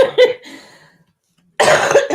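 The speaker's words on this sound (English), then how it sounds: "Cough, cough." A woman gives a single short cough, then after a brief pause a second, louder burst of coughing follows, close to the microphone and with no talk over it.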